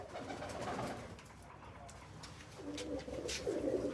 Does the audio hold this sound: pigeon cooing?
yes